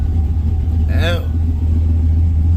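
A truck engine idling steadily, a loud low rumble close by throughout, with a brief short voice sound briefly over it midway.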